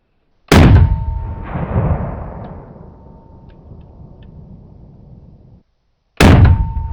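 A 5.56 rifle fires into a meat target, producing two sharp, loud shots several seconds apart, each with a ringing decay that fades into quiet.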